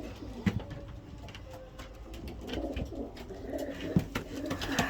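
Racing pigeons coo softly in a loft, low throaty calls rising and falling over a faint murmur of background noise, with no talk.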